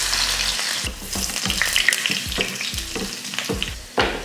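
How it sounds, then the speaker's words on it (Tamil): Loud crackling sizzle of mustard seeds popping in hot sesame oil, with sharp bursts of spattering every half second or so, close and continuous. "ஊறுகாய் தாளிக்கிறதுக்கு நல்லெண்ணெய் ஊற்றிடலாம். எண்ணெய் நல்லா காஞ்சதுமே கடுகு,"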